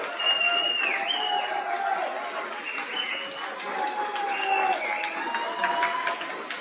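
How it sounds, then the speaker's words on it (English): An audience at a convocation ceremony applauds a 30-year service honoree with sustained, dense clapping and a few whoops, steady and close throughout. "you deserve a round of applause"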